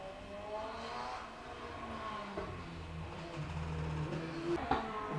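A sprint car at a Caithness Car Club sprint at Golspie's Littleferry layout accelerates through its gears, the distant engine note rising and falling and hesitating between shifts, faint and alone.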